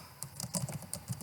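Quick, light clicks of a computer keyboard as text is typed, a short burst of irregular keystrokes close by with no talking.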